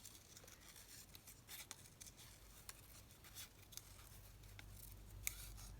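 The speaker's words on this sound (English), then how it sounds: "Let's see if we can cut the next one out whilst still holding it in place a bit on the paper." Scissors snip through paper as shapes are cut from a craft kit, with a series of close, crisp cuts at an irregular rhythm over quiet room tone.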